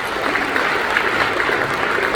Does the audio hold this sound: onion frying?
no